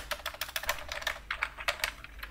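Quiet clicking of a computer keyboard as PHP code is typed, the keystrokes coming in quick, uneven bursts close by with no talking.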